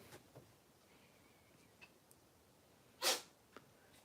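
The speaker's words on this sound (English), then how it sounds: "Oh, Daisy, are you sneezing a little bit?" One small, quick sneeze from a cat, close by in an otherwise quiet room, with a few faint sniffs and clicks around it.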